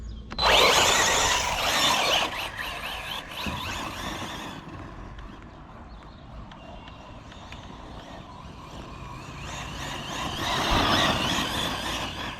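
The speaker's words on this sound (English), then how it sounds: "we're going to give the Radix 4S its first blast" A Team Corally Radix 4S RC car driving at full power outdoors in a field, with a loud rising whine of its electric motor and tyre noise that fades as it moves away and then swells again as it returns.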